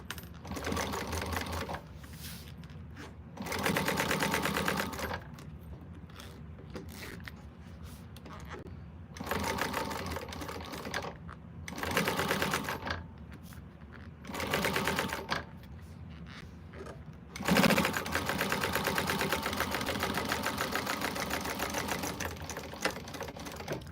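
Sewing machine sewing a quilted bag, running in repeated bursts of steady stitching separated by brief pauses, with a longer continuous run near the end.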